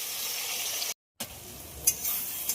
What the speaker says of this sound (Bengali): আলু আর মশলা একদম খুব ভালোভাবে ভাজা হয়ে গেছে।